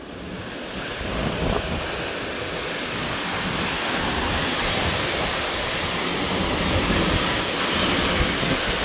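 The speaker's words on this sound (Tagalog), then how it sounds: "Super, ang lakas ng hangin." Strong storm wind with heavy rain roars as a steady, loud broadband rush that builds slightly and holds throughout, with gusts buffeting the microphone and no voices.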